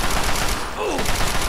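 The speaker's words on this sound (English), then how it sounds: "He's got a combat shotgun." A combat shotgun fires in Fallout 3 amid loud, dense combat noise, with rough repeated bursts filling the short moment.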